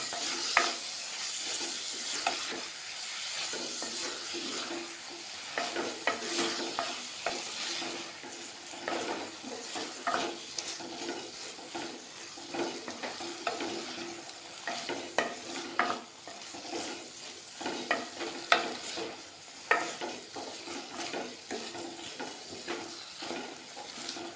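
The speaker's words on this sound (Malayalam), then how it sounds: "ഇതും കൂടെ കൊഞ്ചും കൂടെ ഉള്ളിയുടെ കൂടെ ഇട്ട് കുറച്ച് തന്നെ വഴറ്റിയാണ്." Prawns tossed with onions in a pan for konch theeyal sizzle continuously while a spatula scrapes and stirs in uneven strokes, close and moderately loud, with no voices.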